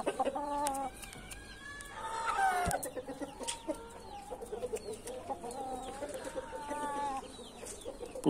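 Chicks peep in bright, rapid chirps alongside a hen clucking close by, with the calls overlapping steadily and staying fairly loud throughout.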